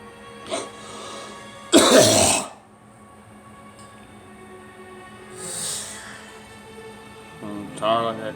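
A man gives one loud, harsh cough burst, then clears his throat more quietly with a few shorter rasping sounds, heard close up against a quiet room.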